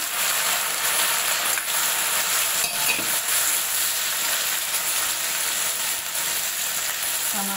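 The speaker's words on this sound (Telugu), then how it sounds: "ఇప్పుడు ఆయిల్లోనే టమాటాలు పచ్చిమిరపకాయలు వేసేద్దామండి." Tomatoes and green chillies fry in hot oil with a steady, close, full hiss and crackle that holds throughout, with a few light stirring knocks and no voices.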